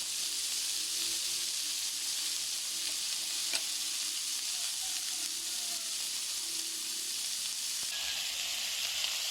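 Meat and shrimp paste (bagoong) sauté in a hot pan, giving a continuous bright sizzle and hiss with faint stirring scrapes throughout.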